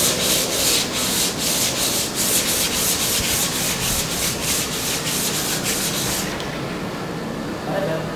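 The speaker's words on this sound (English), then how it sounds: "Sanding paper with 240 grit." Steady, rhythmic rasp of 240-grit sandpaper rubbing back and forth on a surface, close and loud, continuing for several seconds before easing slightly.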